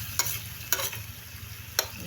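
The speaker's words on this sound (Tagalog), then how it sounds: "Ginisa na nilagyan ng toyo." Sweet potato leaves sautéed with soy sauce in a pan: a low, steady sizzle broken by three sharp scrapes of a utensil stirring, heard close with no talking.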